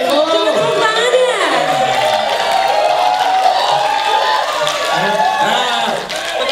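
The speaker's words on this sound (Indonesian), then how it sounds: "Tepuk tangan ya." A crowd at a music education event claps and cheers with scattered whoops, loud and sustained throughout, while voices carry over the noise.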